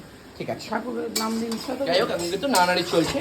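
Fish roe is sautéed and stirred in a pan, heard as clinks and scrapes of a metal spoon against the pan while someone talks over it.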